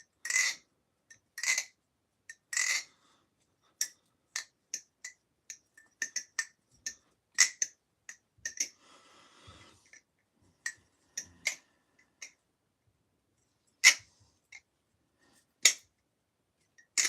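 A balisong butterfly knife being flipped, giving sharp metallic clicks and snaps, some single and some in quick clusters, spaced by near-silence, close up and clear.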